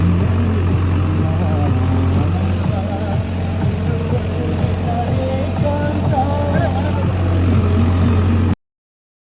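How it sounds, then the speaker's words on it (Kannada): A tractor-driven threshing machine runs steadily with a continuous low engine drone and mechanical rattling, loud and close, with faint voices in the background. "ಇಲ್ಲಿ ಬಂದು ಕಟ್ಟಿ ಹೊಡೆ ಸ್ಟಾರ್ಟ್ ಮಾಡ್ಕೊಂಡೆ."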